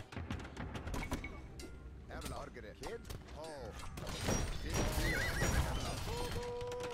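Horses in a strategy video game neigh and whinny several times over scattered hoof clatter and battle thumps, while someone talks over them in Spanish.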